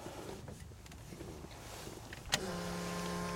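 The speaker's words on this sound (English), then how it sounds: "What you hear is the fuel pump." Fuel pump of a supercharged V8 1933 Ford roadster Factory Five kit car switches on with a sudden click and then whines steadily at a high pitch, faint and close inside the car.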